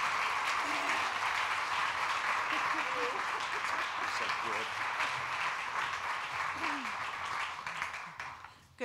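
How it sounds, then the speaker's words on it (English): Warm applause from a congregation at a church annual meeting as a speaker approaches the podium; sustained crowd clapping, steady and fairly loud, with a few faint voices underneath, tapering off at the end. "give her a little encouragement by a warm applause as she comes to this podium"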